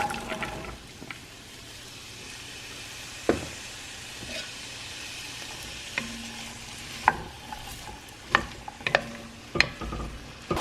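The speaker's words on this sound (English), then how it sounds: "I have went ahead and chopped up celery, onion, and carrot in a bowl, and we're gonna get that sauteing" Chopped celery, onion and carrot sauté in melted butter, giving a soft steady sizzle with occasional sharp clicks and scrapes of stirring that grow more frequent toward the end; no one speaks.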